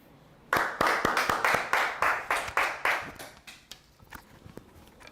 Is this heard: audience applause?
yes